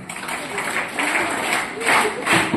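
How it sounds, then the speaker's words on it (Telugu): At a school sports day celebration, a crowd claps steadily, a soft textured applause rising and falling, with talk mixed in over it. "తిరిగి క్లాప్స్"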